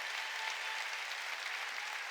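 A church congregation applauds during a Sunday worship service, a steady, dense wash of many hands clapping that holds evenly throughout at moderate loudness with no talking over it.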